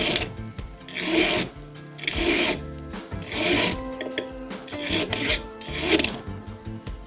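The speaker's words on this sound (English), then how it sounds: "using our coarser file, run it across the end of the tapered pin" A coarse file rasps back and forth across the end of a tapered steel clock pin held in a pin vise against timber, several long repeated strokes in a steady rhythm, close and fairly loud with no talk.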